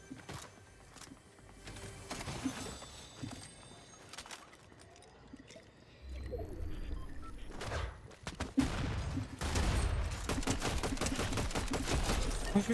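Gunfire in the video game Fortnite: rapid bursts and scattered single shots ring out over a long stretch, growing denser and louder toward the end, with game effects in the background and no voices.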